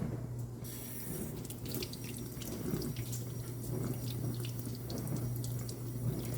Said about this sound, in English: now I'm going to rinse them so that there are no seeds